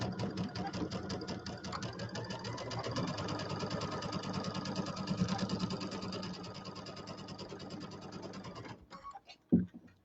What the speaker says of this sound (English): So we're going to sew these together with our 1/4 inch seam.